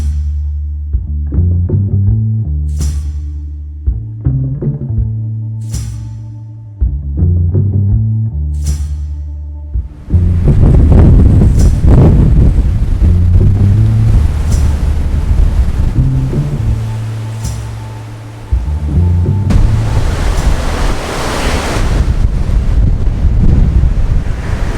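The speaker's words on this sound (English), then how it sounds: "the wind is so strong" Strong wind gusts at a stormy coast, buffeting the microphone with loud, broadband roaring, and surf rushing underneath; the blast builds and stays heavy through the second half.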